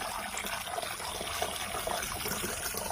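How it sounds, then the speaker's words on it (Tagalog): Strong water pours and gushes into a tilapia fishpond from the rice fields, a steady, loud, continuous rushing flow that lasts the whole stretch with no talk. "titingnan nyo malakas yung tubig"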